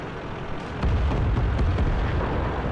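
A car is blown apart in the tank battle game World of Tanks, a deep, rumbling explosion bursting in about a second in and rolling on at steady loudness.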